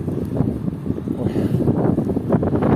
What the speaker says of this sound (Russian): Всю дорогу мне ветер в лицо.